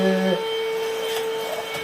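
A Grundig VCP 3930 25.2 V cordless stick vacuum cleaner runs with a steady tonal whine and motor hum that holds constant, picking up dirt from hard floors.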